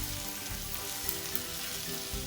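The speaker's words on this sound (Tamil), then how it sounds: "ஆட் பண்ணிவிட்டு முட்டை வேகும் மட்டும் நாங்கள் கண்டினியூவாக வெஜிடபிள்ஸோடு சேர்த்து மிக்ஸ் பண்ணி கிளற போகிறோம்" Eggs and vegetables stir-fry in a pan for mixed fried rice, a continuous bright sizzle with faint crackles and light stirring scrapes, close and fairly quiet.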